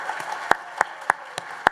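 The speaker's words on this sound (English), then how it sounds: "give them another big round of applause" A handful of sharp, separate claps ring out at a centennial celebration kick-off, spaced unevenly over a faint murmur, sounding like sparse applause for event co-chairs.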